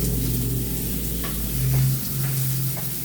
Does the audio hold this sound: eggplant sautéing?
yes